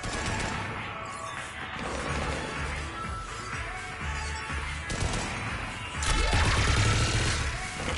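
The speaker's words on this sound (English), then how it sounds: "Just following the gunfire." Combat gunfire in the video game Mass Effect 3 on PS4: bursts of rapid shots and crashing impacts over a busy battle din, with a louder, heavier burst near the end.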